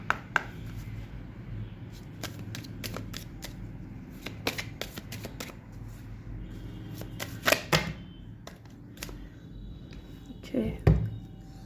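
Tarot cards are shuffled and drawn by hand in a run of crisp, rapid riffling flicks and soft slides, close and fairly quiet, with a few sharper snaps near the end.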